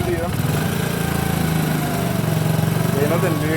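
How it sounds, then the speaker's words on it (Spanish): An Eco Delux motorcycle that is not charging its battery idles with an even, rapid putter, close by and fairly loud, while a voice speaks faintly over it. "Tenemos la moto prendida."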